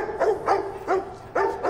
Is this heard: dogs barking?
yes